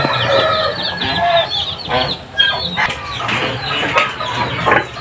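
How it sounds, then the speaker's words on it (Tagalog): Nesting broiler hens sit brooding and keep up repeated clucks and low calls, joined by occasional crowing, all nearby and moderately loud with no voices. "Naglimlim na manok."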